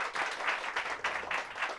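An audience claps steadily after a book talk, a dense, continuous round of applause that sounds close and full, with no talking over it.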